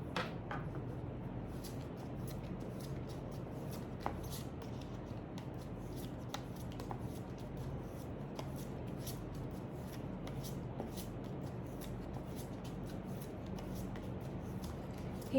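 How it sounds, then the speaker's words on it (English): Tarot cards being shuffled by hand, a soft continuous riffling and rubbing with small clicks, quiet and close. "मैं आपके लिए कार्ड्स shuffle कर रही हूँ"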